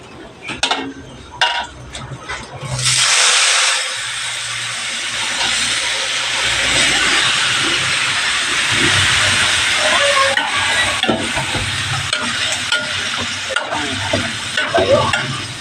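Garlic for pork menudo hits a hot pan with a sudden loud sizzle after a few clattering taps, then fries in a continuous hiss while being stirred, with occasional scrapes.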